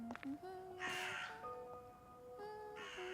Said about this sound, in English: And the crow in the distance